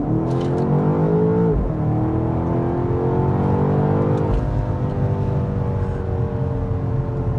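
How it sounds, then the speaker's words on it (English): A 2025 BMW X5 M Competition SUV lets out a loud, close exhaust note, a deep rumbling engine that rises in pitch, dips on a shift, then climbs again with a steady roar. "So one more little exhaust note before we end the test drive"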